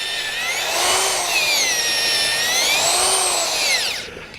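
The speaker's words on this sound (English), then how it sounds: "Just to move the shavings out of the hole and not to get the auger stuck" A motorized auger bores into clay soil for a moisture probe installation, its whining motor rising and falling in pitch as the load changes, steady and close, then winding down at the end.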